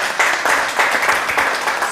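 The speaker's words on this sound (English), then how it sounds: "Round of applause, gentlemen." A short burst of applause, many hands clapping together in a dense, steady patter.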